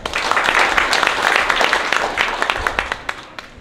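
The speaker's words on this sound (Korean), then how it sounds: "박수입니다." Audience applause at an art exhibition opening ceremony in Yongsan, a dense steady patter of many hands clapping that tapers slightly toward the end.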